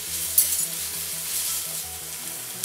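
Onions frying with ginger garlic paste and curry leaves in a hot pan give a steady, fairly quiet sizzle with one brief clink of a spoon, under a repeating low background tone.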